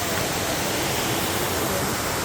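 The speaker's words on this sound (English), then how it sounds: "this is a small waterfall" Small waterfall along the Road to Hana in Hawaii, a steady broadband rush of falling water filling the whole clip without letup, close and fairly loud.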